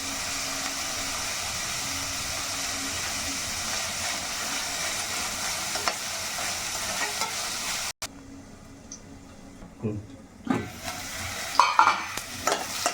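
Curry leaves and coriander sizzle steadily in hot oil in a pan, with stirring scrapes coming through; the frying hiss runs loud and even at first, then drops lower and grows choppier after a sharp break, with intermittent clatter toward the end.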